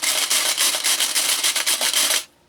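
Rapid rattling and clattering of loose metal and plastic parts shaken inside a container, a dense rhythmic burst lasting about two seconds before stopping abruptly.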